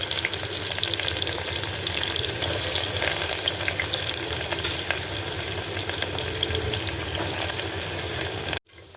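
Chopped large onions sizzle loudly in hot oil for mutton liver chukka, a dense continuous crackling hiss that stops abruptly near the end.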